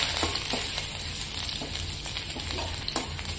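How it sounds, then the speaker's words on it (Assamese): Ginger and garlic frying in oil, a constant close crackle and sizzle with light irregular pops and stirring taps throughout, no talking. "আদা নহৰু দিলে এনেকৈ ভাজি লম অলপ সময়"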